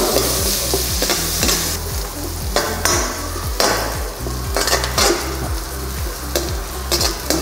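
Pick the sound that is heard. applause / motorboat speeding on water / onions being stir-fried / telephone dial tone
onions being stir-fried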